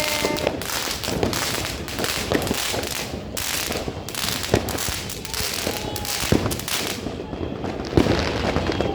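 New Year fireworks and firecrackers go off in dense, rapid crackling bursts, loud and continuous throughout with a few sharper bangs standing out.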